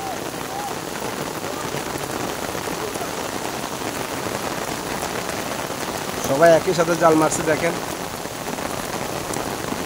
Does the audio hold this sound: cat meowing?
no